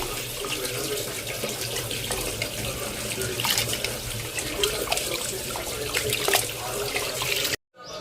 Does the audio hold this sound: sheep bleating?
no